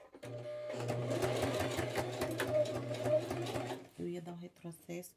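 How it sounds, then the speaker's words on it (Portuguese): A domestic sewing machine stitches fabric over a bra cup, running in a steady rapid whir for several seconds before a few short stop-start bursts, close by, with someone talking over it. "Vou costurar normal, ó."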